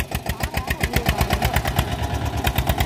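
A 1994 Eicher 241 NC tractor engine runs under load while pulling an 8-foot rotavator through soil, its steady, rapid thumping exhaust beat loud and close with no talk.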